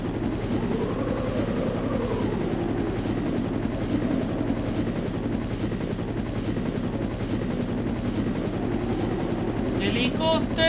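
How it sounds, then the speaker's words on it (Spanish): A helicopter in the Resident Evil The Hunter mod approaches with a steady, loud rotor thump and engine drone, while gunfire-like clatter and voices sit underneath. "Y ahí viene el helicóptero."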